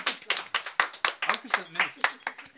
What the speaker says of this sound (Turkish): Alkışlar lütfen.